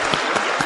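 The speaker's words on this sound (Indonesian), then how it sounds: "Jadi tepuk tangan sekali lagi buat lingkungan One Vision" Brief burst of audience clapping for One Vision at a seminar talk, dense and even with a few sharper claps standing out.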